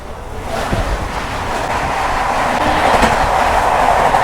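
A moving passenger train rolls along with a steady, loud rumble and rail clatter that builds slightly over a few seconds, with no voices.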